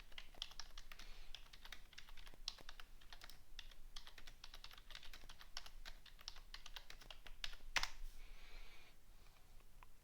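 Steady typing on a computer keyboard, a continuous patter of close key clicks for the whole stretch with a few sharper strikes, no voices.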